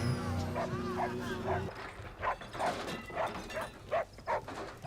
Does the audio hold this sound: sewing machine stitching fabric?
no